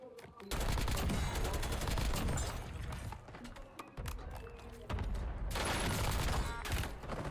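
CX-9 SMG firing in Warzone on Rebirth Island: loud sustained automatic bursts, one long string, a short break, then another long burst, with a player talking over the gunfire.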